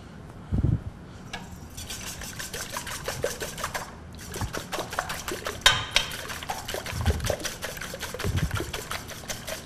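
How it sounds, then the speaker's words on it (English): Eight eggs whisked briskly in a bowl for a quiche batter, with rapid metallic ticking strokes running almost continuously, pausing briefly before resuming, and occasional low knocks against the bowl. "First of all, we have our 8 eggs. We're going to whisk these to break them up."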